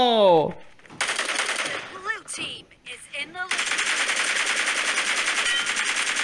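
Rapid bursts of automatic gunfire ring out in the mobile shooter game BGMI, loud and dense, broken by a few short pauses and then running as a sustained rattling stream, with brief bits of excited talk at the start.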